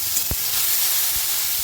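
Ginger and green chili paste dropped into a hot pan, giving a steady frying sizzle and hiss with a couple of short soft knocks from stirring.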